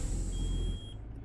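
In American Truck Simulator, a low air pressure warning sounds as a single thin, high electronic beep over the low rumble of the idling truck engine, which then cuts off.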